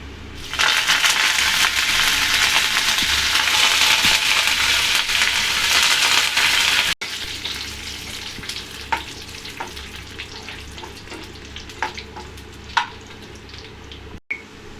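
Curry leaves hitting hot oil along with cumin seeds and dried red chilli, a loud, dense sizzle for several seconds that settles into a softer crackle with scattered pops and spatters.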